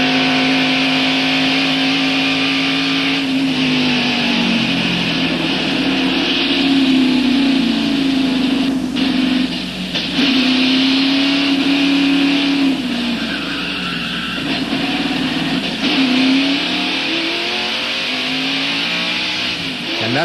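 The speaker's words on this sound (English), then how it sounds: "Now, a replay of the crash from Dale Jarrett's in-car camera." Loud NASCAR stock car engine roaring steadily from inside the car during the 1991 Miller Genuine Draft 500, with tires squealing and skidding as it crashes, engine pitch dropping and surging throughout.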